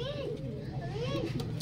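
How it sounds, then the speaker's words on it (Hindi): Madrasi pigeons coo in a steady, rolling murmur close by, with soft repeated throaty calls running through the whole moment and faint background voices. "कबूतर देखो"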